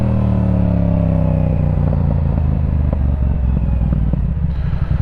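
Yamaha R7 with a Yoshimura R-77 exhaust lugging at low speed, a loud, close, rumbling engine note broken by irregular crackles and pops.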